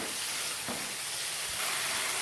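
Tomatoes and urad dal are sautéed for a restaurant-style tomato chutney, giving a soft, steady sizzle and hiss at moderate distance, with a faint stir or two and no voices.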